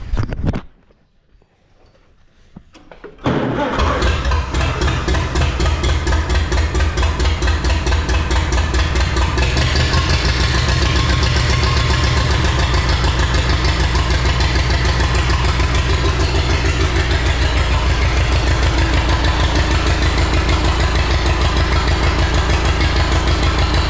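A Farmall Super C tractor engine idles low in cold weather, starting up after a brief quiet moment and then running loud, close and steady with an even, rapid chugging pulse.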